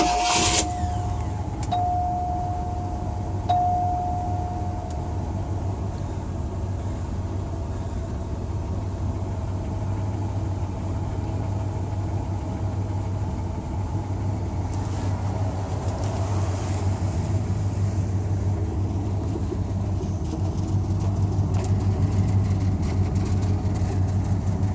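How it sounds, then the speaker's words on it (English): A Cadillac Fleetwood Coupe Deville engine fires up with a brief burst, then settles into a steady, continuous idle rumble that holds evenly for over twenty seconds, close to the car and with no talking. "Wanted to let you guys hear it run, hear it fire up"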